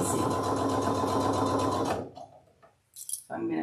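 A sewing machine runs steadily for about two seconds while top stitching a zipper pouch, then stops, leaving brief faint handling clicks and rustles before another short burst of noise.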